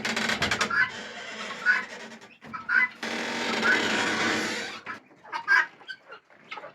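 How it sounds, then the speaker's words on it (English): Chickens in a farm chicken house cluck and squawk in bursts just after a door opens, with busy hen chatter filling the space and brief pauses between outbursts, fairly close. "Here are the birds you can see,"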